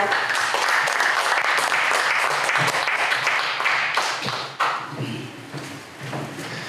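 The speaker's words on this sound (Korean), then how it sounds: "박수로 맞아주시죠." An audience at a lecture concert in Incheon applauds to welcome a lecturer to the podium, a thick steady wash of clapping that thins slightly toward the end.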